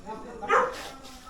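One short dog bark, moderately distant, heard under a low background murmur of voices.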